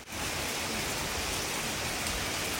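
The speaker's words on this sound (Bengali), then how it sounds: "সকালে যখন ঘুম ভাঙলো তখনও দেখি বৃষ্টি হচ্ছে একতালে" Steady rain pours onto a trawler moored in the middle of a canal, a dense, even hiss that fills the whole stretch without a break, close and constant with no voices.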